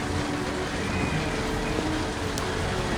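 Steady rain falling on stone, a dense even hiss that fills the scene at constant loudness with no voices.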